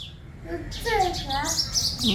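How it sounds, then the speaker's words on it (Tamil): Sparrows chirping close by outdoors, a quick cluster of bright, rising tweets that overlaps with a person talking nearby. "குருவியெல்லாம் கத்துது"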